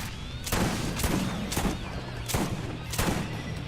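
A rocket launcher fires repeatedly in the video game Borderlands, with loud broadband blasts landing roughly every half to three-quarters of a second over a constant dense rumble of gunfire and explosions.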